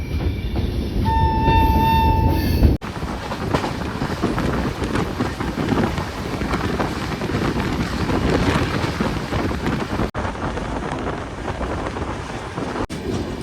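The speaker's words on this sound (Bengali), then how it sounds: "আমাদের ট্রেন এখন প্রবেশ করছে বাগডোগরা স্টেশন" Kanchankanya Express, hauled by a WAP-7 electric locomotive from Sealdah toward Siliguri, rumbles along steadily as heard from on board, with loud continuous wheel and carriage noise, wind buffeting and a brief horn near the start.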